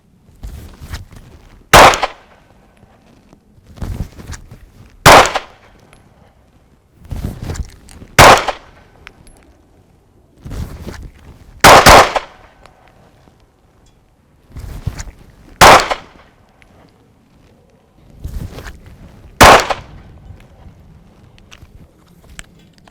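Six sharp handgun shots fired one at a time at a steady interval of about three to four seconds, each a loud crack, with a soft rustle of drawing from a holster and chambering the round before each shot.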